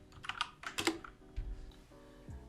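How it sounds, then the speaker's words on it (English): Typing on a computer keyboard during a Figma UI design tutorial, a quick burst of close, crisp key clicks in an uneven rhythm, heard alone without talk. "Here I am just typing link 1"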